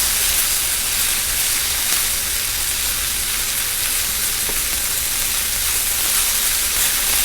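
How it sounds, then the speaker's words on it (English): Venison browns in a pan for tomato gravy, making a steady, close hiss and sizzle that stays even throughout with no one talking. "we'll just let that hang out a minute and do a little browning"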